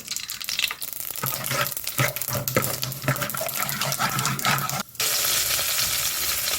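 Mustard seeds, fenugreek and dried red chillies tempering in sesame oil for pepper rasam, giving a steady, close sizzle and crackle with small pops throughout, a brief dip near the end, and no talking.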